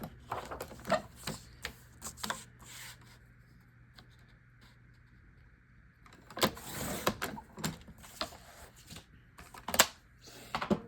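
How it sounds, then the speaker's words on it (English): A 12-inch paper trimmer cuts cardstock while scrapbooking, making bursts of close rasping and clicking with quiet gaps between them and a longer loud slide near the middle. "So I'm gonna cut it using my 12-inch trimmer to 6x12."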